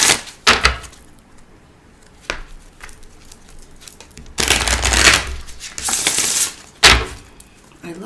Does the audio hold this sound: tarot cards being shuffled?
yes